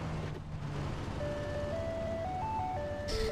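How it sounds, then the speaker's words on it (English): Ice cream truck in the PUBG video game playing its tinkly electronic jingle, a simple melody of steady sustained notes over a low engine rumble, clear and close with no voices. "It's like an ice cream truck."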